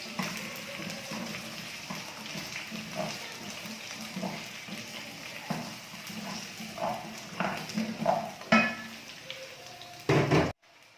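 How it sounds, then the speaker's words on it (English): Potatoes and onions are stirred together in a cooking pot for mutton curry, the spoon knocking and scraping in a steady close rhythm with a louder clatter near the end. "I have put in my potatoes, and I'm going to mix it together with my onions for it to get that onion flavor"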